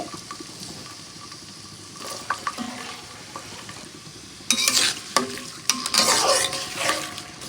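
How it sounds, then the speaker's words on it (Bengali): Chopped onions fry in oil with cardamom, cinnamon, cloves and bay leaf for khichuri over a low flame: a steady soft sizzle, then louder scraping stirs and clatter in bursts during the second half, with no talking. "তো খিচুড়ির জন্য পেঁয়াজটা একটু ভাজা দিয়ে দিচ্ছি।"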